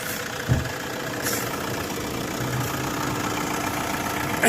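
A 2025 Great Wall Wingle 7 pickup engine idling steadily right after starting, a continuous dense rumble with a slight knock and a brief bump near the start, close and fairly loud, no talking.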